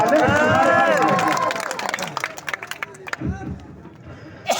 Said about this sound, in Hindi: मैं चाहता हूं जोरदार तालियां आप सब अपने लिए बजा दें।